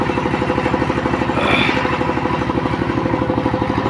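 A paddy threshing machine's engine chugs loudly and steadily up close, its rapid rhythmic thumping continuing without pause, with a brief rattling clatter partway through.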